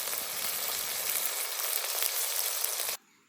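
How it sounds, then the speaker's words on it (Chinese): Water centipedes deep-frying in hot oil give off a dense, even crackling sizzle close by that cuts off abruptly near the end. "油炸水蜈蚣，这种在我们这边啊，一般都是油炸"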